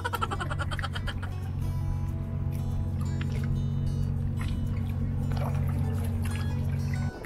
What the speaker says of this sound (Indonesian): Kami melihat sebuah kapal lewat.